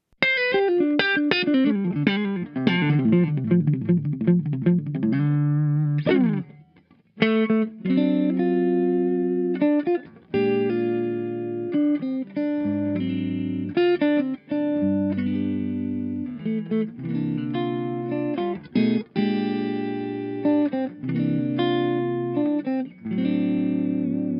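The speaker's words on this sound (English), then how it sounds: "This is the one I think that sounds the most like a 70s distortion." A heavily distorted electric guitar through a solid-state amp's distortion channel with a 70s-style tone plays rapid descending runs, then chunky chords and riffs with sustained, saturated tone, loud and alone.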